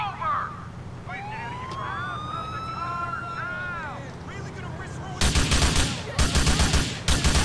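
A wailing police siren in GTA 4 rises and falls over city noise, then loud bursts of rapid gunfire break in near the end.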